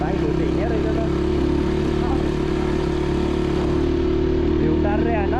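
Motorcycles riding along a hill track give off a steady, loud engine drone with low rumbling throughout, and voices murmur faintly in the background.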